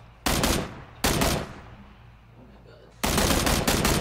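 Gunfire in the video game PUBG: three loud, sharp bursts of rapid shots, the first starting near the beginning, the second about a second later and the third after a two-second lull, each ringing out briefly and fading into a quiet background.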